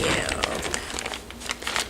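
Crinkling and rustling of paper being handled up close, with soft crackles and scrapes scattered through a short stretch.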